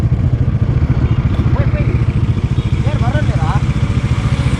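Motorcycle riding over a potholed road in Karnataka near Mangalore, a loud steady engine drone with rattling bumps, someone speaking over it throughout.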